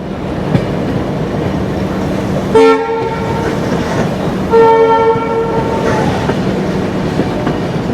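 WAP-5 electric locomotive, Ghaziabad-shed 30179, hauling the 12863 Howrah–Bengaluru superfast express in heavy fog, sounding two loud, close horn blasts, a short one then a longer one, over the continuous rumble of the moving train.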